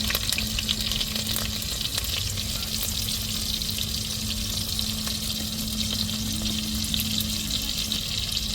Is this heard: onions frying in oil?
yes